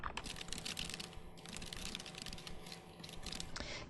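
Quick, steady clatter of keys on a computer keyboard as a report title is typed into Word 2013, close and continuous with only brief pauses.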